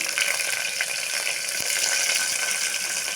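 Whole spices and green chillies frying in oil in a pan for dal khichdi, a steady close, dense sizzle with faint stirring and scraping, no voices.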